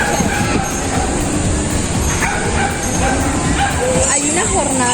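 Dogs and puppies at an outdoor adoption and vaccination event in an urban park bark and yip repeatedly, close and loud, over crowd noise and people talking.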